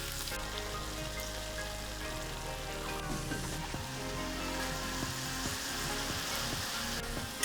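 Blanched pork for adobo sizzling in a pan after soy sauce is added, a steady dense crackle with low hum underneath, close and continuous with no talking.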